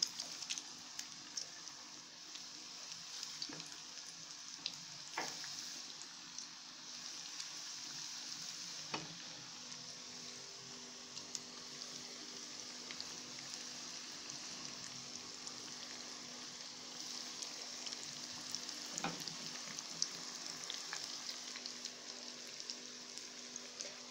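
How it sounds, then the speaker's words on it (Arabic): Minced-meat kofta fried in a pan gives a steady, soft sizzle with a crackling, rain-like texture and occasional sharper pops, heard close and alone with no talking. "دلوقتي هنبتدي نقلي الكفته مع بعض اهي، الكفته بتاعتنا"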